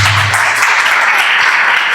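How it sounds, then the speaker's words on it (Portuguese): Audience applause during a church sermon, a brief loud wash of clapping that stays steady throughout, with a low tone fading at the start. "Então aplauda Jesus."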